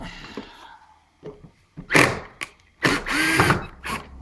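A power drill backs a screw out of a Kreg Precision router table fitted with a Triton TRA001 router, heard as several short, loud whirring bursts separated by brief pauses.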